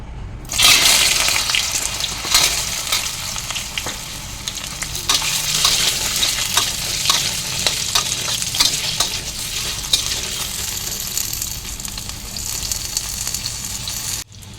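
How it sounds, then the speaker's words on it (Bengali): Taro pieces frying in hot oil in a wok, a loud, dense, continuous sizzle with stirring scrapes throughout, close up and without talk, ending abruptly. "এবারে মুখি কচুগুলো দিয়ে দেব।"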